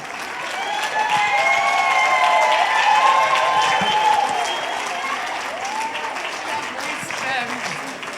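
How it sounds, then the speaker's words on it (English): Audience at the Women in Print 2025 awards rises to applaud the recipient, Mrs. Harriet Berger; steady sustained clapping with cheering voices over it, building after a second and fading gently later. "give a resounding applause for this year's Women in Print recipient"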